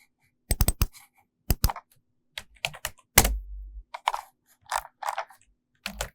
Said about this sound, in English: Go to the folder D drive.